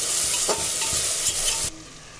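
Ginger garlic paste with garam masala, ground green chilli, red chilli powder and a spoon of pickle frying in a pan, giving a steady close sizzle with scraping stirs that cuts off abruptly near the end.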